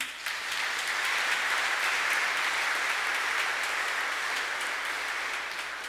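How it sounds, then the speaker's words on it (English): A church congregation applauds the choir at a Sunday installation Mass, a steady wash of many hands clapping that holds evenly for several seconds at moderate loudness with no voices. "They often get applause on Sundays"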